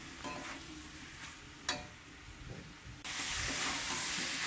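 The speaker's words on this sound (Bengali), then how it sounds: "তো মশলাটার সঙ্গে সয়াবিন আলুটাকে ভালো করে কষিয়ে নিচ্ছি।" Soybean chunks and potato being fried in spice paste, giving a faint, low sizzle with soft stirring sounds that turns into a louder, steady hiss near the end.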